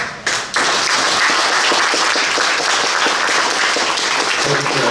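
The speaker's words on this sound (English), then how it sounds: "Can I get a round of applause?" A room full of people claps after a presentation, a sudden dense burst of applause that stays loud and even throughout, alone without talk.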